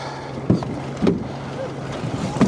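Hollow thumps and scrapes of a plastic kayak being pulled into a boat, knocking against the hull in three dull bumps over steady wind and water noise.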